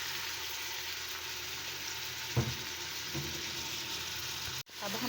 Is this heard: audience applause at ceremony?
no